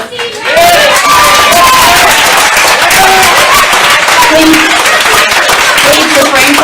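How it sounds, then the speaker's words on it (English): Loud clapping and cheering break out among the audience at a school board meeting, a dense continuous burst with raised voices calling out through it. "Please refrain from clapping and outbursts."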